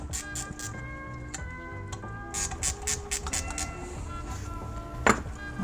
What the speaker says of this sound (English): There's 1, 2, 3, 4 10 millimeter bolts. So let's go ahead and remove those same way.